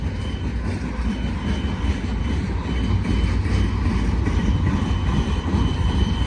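A long Union Pacific freight train, its cars known for flat wheels, rolls past a crossing near Silverwood below the Cajon summit, producing a steady, loud, broad rumble throughout with no voices.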